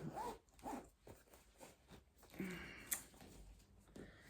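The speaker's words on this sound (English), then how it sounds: "Catching the handle in the zip." A knitting project bag's zipper is pulled in several short, close rasping strokes, quiet and alone, with a slight snag partway through.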